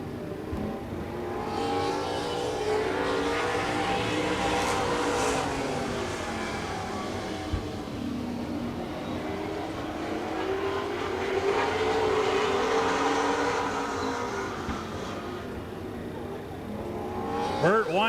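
Several stock cars roar past on a speedway, engine pitch rising and falling as they pass, with an announcer talking over the noise throughout.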